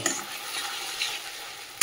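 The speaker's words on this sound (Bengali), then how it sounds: "আদা রসুনটা একটু তেলে নেড়ে, যে আদা রসুন তো তেলের মধ্যে একটুখানি নেড়ে নিয়ে" Ginger-garlic paste stirred in hot oil with onions, with a steady sizzle and soft scraping of a spoon under it and a sharp knock at the very end; no one speaks.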